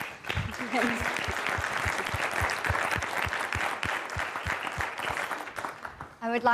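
A conference audience applauds a presenting team, a steady clatter of many hands with a pronounced rhythmic clapping beat, and a voice briefly cuts in near the end.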